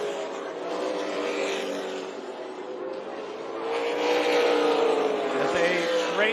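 Race cars roaring around the oval at Tucson Speedway, a dense continuous engine drone with several cars running together, swelling louder toward the end as a pack sweeps closer.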